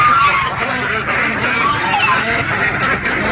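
Laying ducks quack and honk continuously close by in a muddy pen, a busy flock chorus with a voice talking over it.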